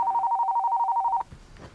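A telephone rings in a steady electronic pulsing tone for about a second, fairly loud and alone, then cuts off into quiet room noise.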